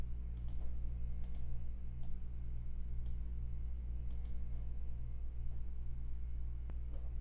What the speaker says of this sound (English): We will type in our city Edina, add our maximum and minimum price ranges